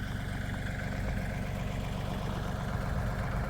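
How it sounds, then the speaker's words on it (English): Small farm tractor engine running in cold Alaskan weather, a steady low rhythmic idle chug heard close and continuous throughout. "Moving our little tractor back into town."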